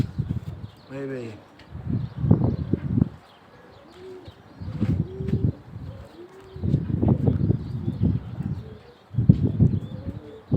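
Basra pigeons coo in repeated low, rolling bursts at close range, with brief pauses between calls and a few faint chirps and wing flutters.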